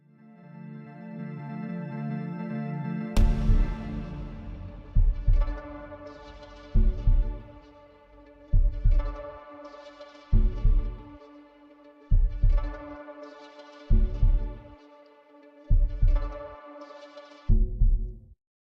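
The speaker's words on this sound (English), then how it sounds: "So the heartbeat's going to go further and further back into the mix as other layers" A heartbeat sample in an FL Studio remix thumps in a steady, evenly spaced rhythm, about ten strong double beats, over a sustained synth drone, with no talking.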